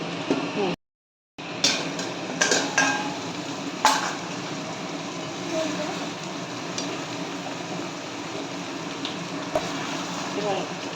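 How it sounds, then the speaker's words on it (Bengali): A spoon scrapes and clinks in a small wok of chicken over soft sizzling as the liquid cooks off, with irregular stirring knocks and a faint voice in the background. "এবার একটু নাড়িয়ে দিই আস্তে আস্তে করে"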